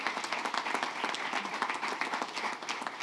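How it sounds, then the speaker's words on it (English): An audience at a live-streamed public event breaks into sustained, dense applause, many hands clapping at once in a steady wash of sound. "Let's give them another round of applause."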